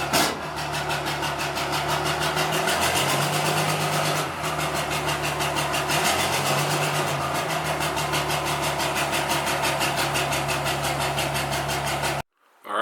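A diesel engine in a 4th gen Dodge dually truck idles close by with a steady, somewhat choppy clatter and small shifts in pitch, then cuts off abruptly near the end.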